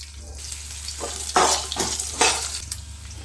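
Ginger and garlic go into hot oil in a pan for a spicy fish gravy, producing a soft steady sizzle with a few louder bursts of spatter and stirring over a low background hum.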